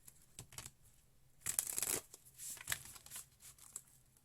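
Soft riffling and flicking of playing cards being shuffled, in short bursts with a louder flurry in the middle, close and quiet.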